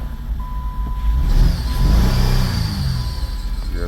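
A Chrysler 200 engine cranks and catches, a loud, close rumble swelling as it starts and then settling into a steady idle, with a steady high electronic beep running over it.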